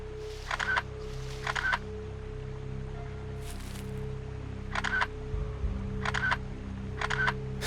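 Repeated camera shutter clicks from a selfie camera in the horror game DreadOut, five or six sharp snaps in pairs and singles over a low droning ambient hum.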